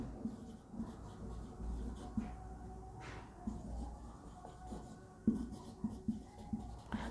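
Chalk or marker writing on a board during a Hindi biology class on plant growth, a steady faint scratching with short stroke bursts and taps under room hum.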